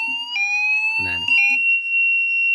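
Fire alarm panel buzzer beeping loudly and steadily, a sustained electronic tone that shifts pitch briefly partway through, with a short burst of other noise in the middle.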